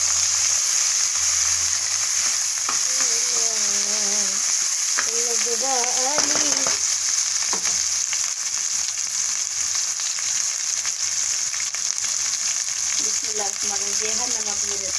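Large tomatoes added to a hot frying pan for a potato, pea, carrot and fenugreek dish, a constant strong sizzle running the whole time while a voice speaks intermittently over it.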